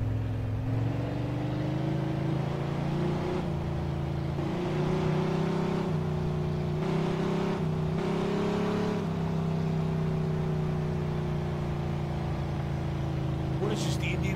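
A car speeds through city streets in Mafia II, its engine droning loud and steady with rising and falling revs and brief shifts between gears, with voices at times over it.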